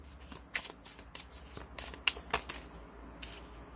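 Tarot cards are shuffled close up in quick, crisp riffling bursts, with soft slaps and flutters spread over a few seconds.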